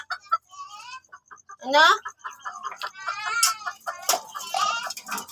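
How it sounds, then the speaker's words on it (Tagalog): A pet chicken clucks and squawks in short bursts while someone tries to catch it, with a louder alarmed outburst partway through; a person talks over the agitated calls. "Try ko nga pong hulihin yung alaga naming manok"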